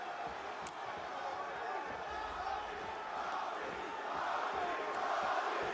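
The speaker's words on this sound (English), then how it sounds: "No surprise, it is a pro-Lawler crowd tonight." A UFC arena crowd for Colby Covington versus Robbie Lawler roars as a broad distant wash beneath a commentator's voice, swelling slightly louder toward the end.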